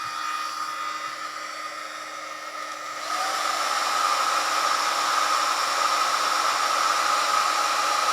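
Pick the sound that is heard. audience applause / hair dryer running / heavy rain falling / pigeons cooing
hair dryer running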